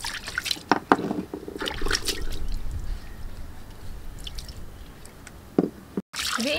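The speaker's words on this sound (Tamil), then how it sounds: "இப்போ இதை கழுவி எடுத்துக்கலாம்." Water drips and splashes as a soapstone kalchatti cooking pot is rinsed by hand without soap, with scattered trickles, squishy rubbing and a few louder splashes close by.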